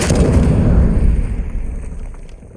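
A heavy blast-trap explosion in Call of Duty: Warzone, loud and booming at the start, then rumbling and fading out over a couple of seconds.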